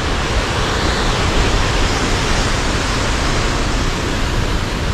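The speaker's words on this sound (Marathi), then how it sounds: "मोठा प्रवाह धबधब्याचा या ठिकाणी आहे" Girmal waterfall in Dang near Saputara, a large cascade roaring as a loud, steady broadband rush that holds constant and close throughout, with no voices.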